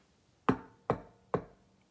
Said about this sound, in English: Somebody is knocking at the door.